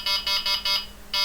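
A Txi-D alarm beeps after a small knock, four quick shrill pulses in steady rhythm, a short pause, then a fifth, loud and close with no voices.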